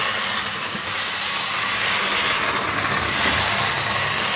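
A nearly 60-year-old HO-scale model locomotive runs continuously with a dry, hissing whir and grinding motor noise, steady and close throughout with no talking.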